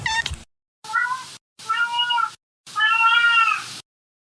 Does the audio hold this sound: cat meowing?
yes